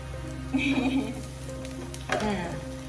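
Garlic sizzles softly in a hot pan under a steady low hum, with a voice speaking over it in short bursts.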